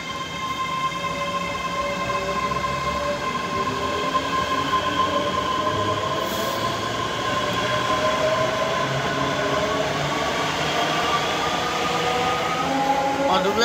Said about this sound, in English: And departing now to 385.